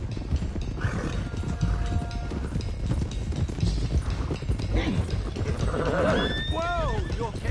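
Several horses gallop in Red Dead Redemption 2, a steady clip-clop of hooves running throughout with a loud whinny rising near the end, while voices talk over the herd.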